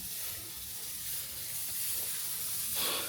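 Steam hisses steadily from a pressure cooker with a faulty gasket while chicken biryani cooks, a continuous close airy rush that swells slightly toward the end.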